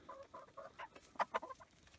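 Hens clucking inside a warm henhouse, several short soft clucks and calls in quick succession, fairly close but quiet, with no talking.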